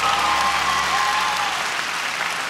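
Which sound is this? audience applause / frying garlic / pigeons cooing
audience applause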